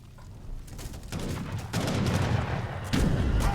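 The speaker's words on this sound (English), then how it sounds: "2 cannons get a volley off, pretty nice." Cannons fire a volley in a real-time strategy game tournament match, a burst of loud, dense booming blasts stacking up with sharp new hits near 1 and 3 seconds, sounding close and heavy throughout.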